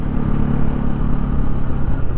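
A freshly serviced motorcycle engine pulls hard under load, giving a continuous, close, throbbing drone with a steady low growl and a slight rise in pitch, alone and without voices.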